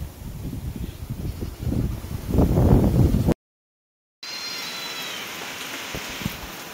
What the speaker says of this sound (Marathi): आणि पाऊस आलेला आहे जोरात.